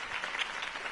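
Applause after a campaign speech in a video game, a brief dense burst of crowd clapping, loud and steady for about a second.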